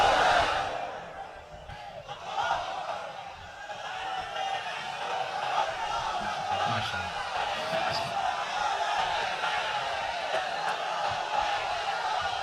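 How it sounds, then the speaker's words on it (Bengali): At a Bangla Islamic sermon gathering, a large crowd shouts Allahu Akbar in unison in answer to a call for takbir, a loud massed cry followed by sustained crowd noise and a voice. "তাকবীর পড়ুন"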